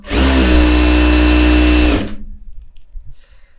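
A sewing machine stitching through lining and fabric runs at a loud, steady buzzing whir for about two seconds, then stops abruptly, leaving faint handling noises.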